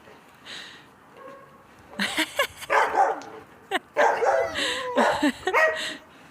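Several dogs barking and yipping nearby in Kyiv in irregular bursts, with some whimpering mixed in and a few excited calls.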